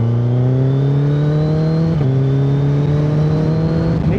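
Suzuki Hayabusa 1340cc motorcycle accelerating along an expressway, a loud steady engine drone rising in pitch, with a brief dip around a gear change midway before climbing again.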